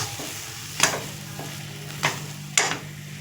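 A spatula stirs food cooking down in a pan, making three short, separate scraping strokes over a quiet, low background hum.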